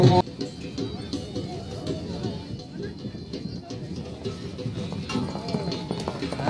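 At a tent pegging competition in Attock, Pakistan, a horse's hooves drum in a quick galloping rhythm under a crowd's murmur and a loudspeaker voice, moderately close, running throughout.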